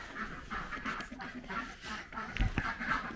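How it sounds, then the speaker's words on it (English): Ancona ducks, a heritage poultry breed, quacking on a farm: a run of repeated nasal calls at moderate distance over a noisy outdoor background, with a couple of louder thumps near the end. "So I raise Ancona ducks. They are a heritage breed,"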